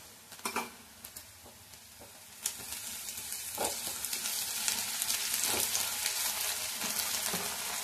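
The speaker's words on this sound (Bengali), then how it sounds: "পেঁয়াজটা হালকা ভেজে নিয়েছি, দিয়ে দেবো আদা রসুনের পেস্ট।" Sliced onion with ginger garlic paste fries in a pan for a black chickpea curry, giving a soft sizzle with a few early stirring clicks that swells into a steady, fuller hiss.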